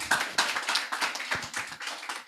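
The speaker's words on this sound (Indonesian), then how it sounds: "Itu baru keren, tepuk tangan." Audience clapping at a church talk, a quick scattered burst of hands clapping from a small crowd, soft and uneven, fading toward the end.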